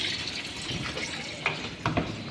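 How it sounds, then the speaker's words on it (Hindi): A washing machine fills with water in a steady rushing gush, close and continuous, with a couple of small knocks near the end. "ये पानी भर रही है मशीन में"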